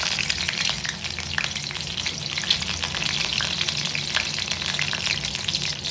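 Green chillies sizzle steadily in hot oil in a pan while preparing egg bhurji, a loud, continuous crackling fry that holds without pause and has no talking over it.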